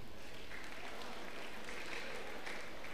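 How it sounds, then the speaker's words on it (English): A church congregation claps for itself during a sermon, a steady wash of applause filling the full three seconds at moderate level, with a murmur of voices beneath it. "Clap for yourself."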